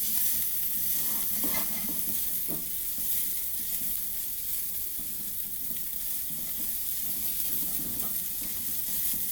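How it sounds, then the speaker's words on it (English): Food sautés and sizzles steadily in a hot pan, a continuous bright hiss with occasional soft stirring scrapes, close and fairly loud, with no talk. "Start letting that get nice and sauteed"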